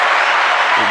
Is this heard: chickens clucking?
no